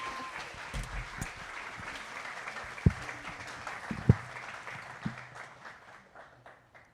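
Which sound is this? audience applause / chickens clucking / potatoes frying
audience applause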